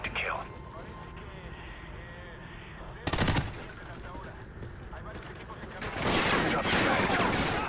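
Gunfire in the video game Call of Duty Ghosts, with sharp bursts of automatic fire near the middle and toward the end over a background of game ambience, while voices speak at points.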